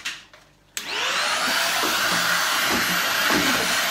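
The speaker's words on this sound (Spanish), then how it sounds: "pues vamos a pasarle la aspiradora." A household vacuum cleaner switches on with a click and then roars steadily and loudly, its whine shifting slightly as it moves across a floor.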